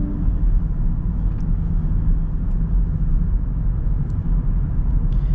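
Land Rover Defender 110 X-Dynamic under moderate acceleration, heard from inside as a smooth, steady low engine and road rumble that holds loud and even throughout.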